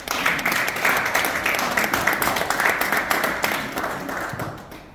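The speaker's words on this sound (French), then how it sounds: "Vous pouvez vous applaudir." A crowd applauds at a Congolese political campaign rally in Liège, steady dense clapping that holds for several seconds before thinning toward the end.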